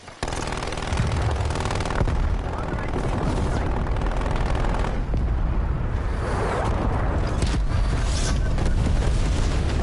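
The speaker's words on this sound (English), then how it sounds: "Throwing frag grenade." Frag grenade blast and sustained automatic gunfire from a Call of Duty Black Ops zombie match, loud and dense throughout with booming bursts and a rattling barrage, a voice talking faintly beneath the din.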